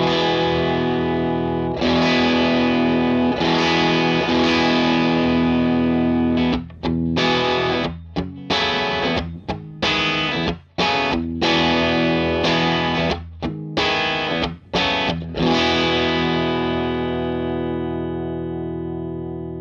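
A Bearfoot FX Honey Bee overdrive pedal at a light drive setting on electric guitar: sustained, slightly gritty strummed chords, then a run of choppy rhythmic stabs, ending in a long ringing decay, loud and close with no voices.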